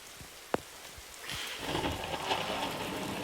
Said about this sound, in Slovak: Začína pršať, to je